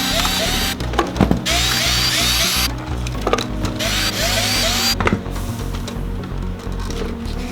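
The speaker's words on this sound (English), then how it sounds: "So what we want to do is just start unscrewing." A power drill whirs in repeated bursts, unscrewing screws to pull a radio from a G35 dash, with ratcheting clicks and brief pauses between runs, close and loud.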